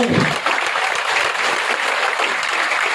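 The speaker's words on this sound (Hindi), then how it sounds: "आपके लिए जोरदार तालियां चाहता हूं" Audience applause at an event honouring a music teacher, a dense, steady wash of many hands clapping close by for about three seconds, with no one speaking over it.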